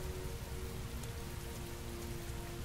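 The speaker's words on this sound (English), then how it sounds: "It's been raining for weeks." Steady rain falls in the game Heavy Rain, a soft, continuous hiss of drops on surfaces, faint and even, with no voices.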